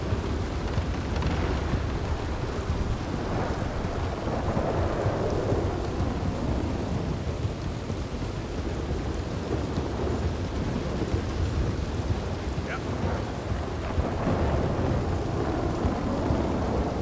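A thunder and rain storm in the video game Red Dead Redemption 2: steady heavy rainfall with low rolling thunder rumbling almost continuously, loud and enveloping, and no voices.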